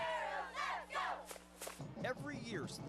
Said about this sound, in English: students at Coachella Valley High School learned the same cheer, Go Arabs